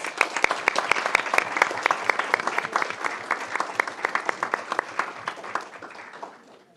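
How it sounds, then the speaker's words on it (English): An audience at a school board meeting applauds a student, with individual sharp claps standing out in the mix before the clapping fades out near the end. "Let's give him a round of applause."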